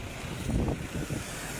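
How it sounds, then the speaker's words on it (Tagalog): A strong, cold wind rumbles and buffets close to the microphone in low, gusty surges. The sound is fairly quiet overall, and no voices are heard. "Ang lakas ng hangin na"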